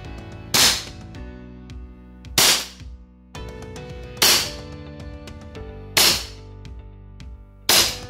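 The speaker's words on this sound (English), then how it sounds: "Let's do a test shot." Five test shots from a KJW M9 Vertec gas blowback airsoft pistol, a Beretta M9 Vertec replica, each a sharp loud crack about every 1.7 seconds over a steady low background hum.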